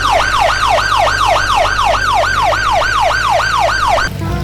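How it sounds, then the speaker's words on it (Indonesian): Toy ambulance siren wails in a fast, regular up-and-down pattern, loud and close, looping about a dozen times before cutting off abruptly. "Wih, tuh gawat darurat mobil ambulan."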